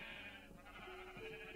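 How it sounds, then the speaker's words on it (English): Sheep bleating in Minecraft, a brief wavering bleat heard faintly through a low, steady background hum. "oh my goodness, so many sheep"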